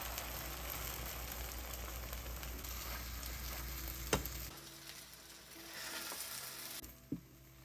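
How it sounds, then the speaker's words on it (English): Steady, dense sizzling of eggs frying in a hot pan, continuous crackle with a couple of sharp clicks, easing slightly midway before resuming. "As our eggs enter the sizzling stage"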